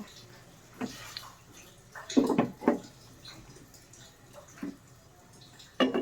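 Soaked chana dal being rinsed in water, with several brief splashing and sloshing bursts separated by quieter pauses, close and moderately loud.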